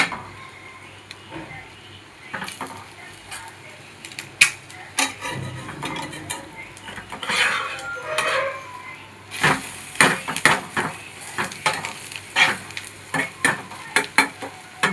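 An egg omelette fries in oil in a pan with a continuous sizzle, broken by scraping and clattering of a utensil against the pan that grows busier and more rhythmic toward the end.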